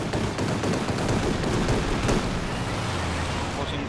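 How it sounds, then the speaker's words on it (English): Sturmovik airstrike cannon fire in the strategy game Company of Heroes 2, a dense, sustained roar of rapid impacts and blasts filling the whole stretch at steady loudness, with a commentator's voice underneath. "Sturmovik inbound with cannon fire."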